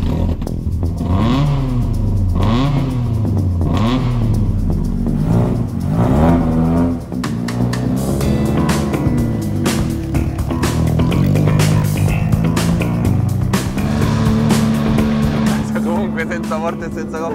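Fiat 127 rally car, a rebuilt ex-wreck prepared almost to Group 2 spec, revving hard while driving, loud engine note climbing and dropping through gear changes, close inside the cabin with occupants talking over it.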